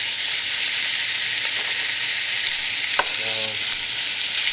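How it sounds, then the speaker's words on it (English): Lamb browning for a lamb and spinach curry, frying with a loud, dense, continuous sizzle and an occasional light clink of stirring. A voice speaks briefly. "We want to brown the meats with the flavors."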